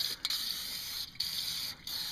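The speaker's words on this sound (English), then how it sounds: "I'm just sitting here and I'm spraying everything down" Steady hissing spray from an aerosol can of Fluid Film corrosion protection under a Toyota FJ Cruiser's frame, broken by a few brief pauses, close and fairly loud with no voices.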